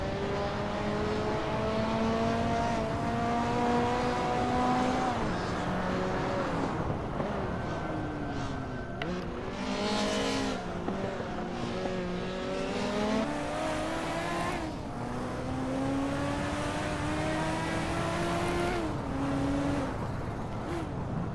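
Race cars in a Hot Wheels video game, among them a Ferrari GTO, Maserati Alfieri and Toyota Supra, with engines droning, rising and falling in pitch through gear changes, loud and continuous with overlapping cars.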